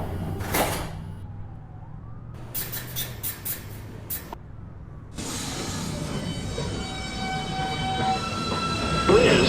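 Manhattan-bound New York City subway 2 train with a steady loud rumble and rail screech, broken early by a series of chime-like tones before the rolling noise takes over and swells toward the end.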